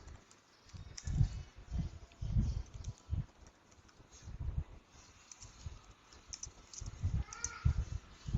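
Typing on a computer keyboard, heard as irregular clusters of soft, close key taps in short bursts and pauses.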